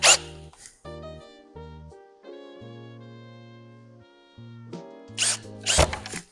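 A power drill drives screws into a wooden canvas stretcher frame, whirring in several short bursts at rising and falling pitch, then one long steady run, followed by a few sharp clicks and rattles at close range.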